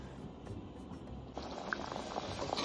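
White cow peas gravy boiling in a pot, a steady soft bubbling and gentle popping close by, growing slightly busier halfway through, with no talk.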